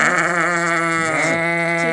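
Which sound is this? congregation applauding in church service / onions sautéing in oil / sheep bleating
sheep bleating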